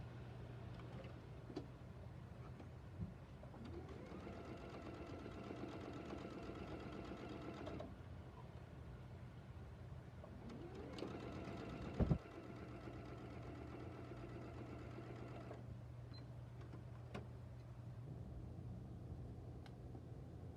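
A sewing machine runs steadily while stitching fabric corners, its motor humming continuously across several bursts separated by brief pauses, with a short sharp knock partway through.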